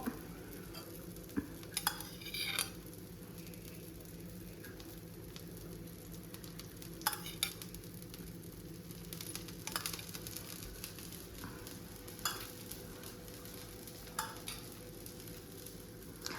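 Oil sizzles in a paddu pan while the dumplings fry, a steady close hiss with scattered clinks and scrapes of a utensil against the pan.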